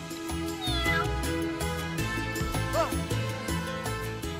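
A cartoon cat meows repeatedly in a busy café scene, several short rising and falling cries over steady background music and clatter.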